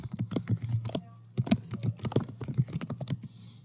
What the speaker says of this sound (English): So you can just start typing a place